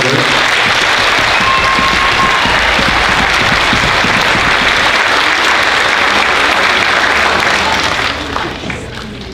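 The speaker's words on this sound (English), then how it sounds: "give them a round of applause for their hard work" Loud, continuous applause fills a school hall at a beginning band spring concert, a thick crowd of clapping hands that holds steady before tapering off at the end.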